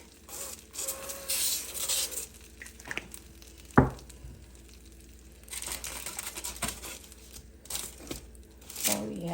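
Tacos on a sheet pan being flipped with crinkling, scraping handling sounds over a faint sizzle, with one sharp clatter midway and a few brief voice fragments.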